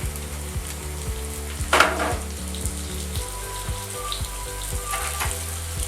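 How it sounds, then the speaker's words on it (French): Minced meat browns in a pan with shallots, giving a steady, close sizzle with rhythmic stirring knocks and a brief louder scrape early on. "je vais faire rissoler la viande"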